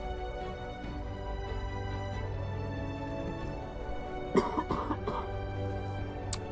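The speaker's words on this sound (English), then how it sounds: "Now, I'm going to cough, and I don't want to." A cluster of short, close cough bursts arrives partway through, over steady background game music.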